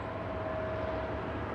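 Distant roar of a Boeing 767 jet with CF6 engines near LAX airport, a steady broadband rumble with a faint whine, brief and far off.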